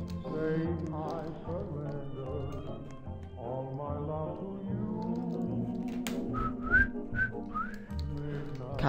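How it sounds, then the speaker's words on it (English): A cat whistle is blown in a video game, producing a few short, shrill rising chirps near the end, heard over soft background music and a voice talking. "Cat whistle, sir."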